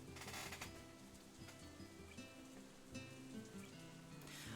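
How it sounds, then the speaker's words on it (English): Rain pours down relentlessly outside in Katawa Shoujo, a faint, continuous wash of falling water heard alone at low level, with soft gusts of heavier rainfall near the start and end. "Rainwater is relentlessly pouring down from the blue-gray sky outside"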